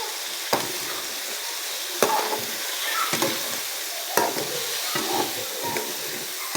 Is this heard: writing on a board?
no